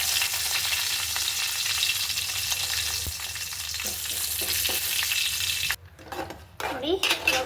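Curry leaves crackle and sizzle in a hot mustard seed tempering, a steady close frying hiss that breaks into sharp popping bursts and spatters near the end.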